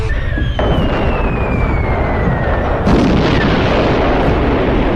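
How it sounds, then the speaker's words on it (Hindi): Cartoon bombs, dropped from above onto zombies, explode as loud, continuous rumbling blasts. A new boom lands partway through and a whistling tone slides downward over the blasts. No talking. "सोन और जंडू चाचा भी ऊपर से ज़ॉम्बीज़ पे बम गिराने लगते हैं"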